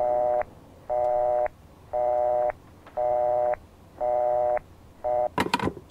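Telephone signal tones in Project Nightmare: five clear, evenly spaced beeps with a sixth cut short, each about half a second long, followed by a brief burst of noise at the end.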